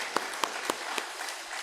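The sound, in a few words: congregation applauding to bless church teachers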